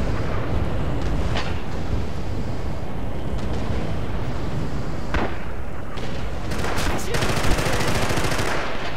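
Rapid automatic gunfire sprays continuously in Red Orchestra 2: Rising Storm, a loud, dense, crackling stream of shots with sharper bursts near the end.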